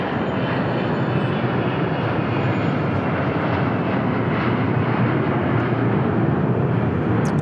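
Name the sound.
Bombardier Global business jet at Dallas Love Field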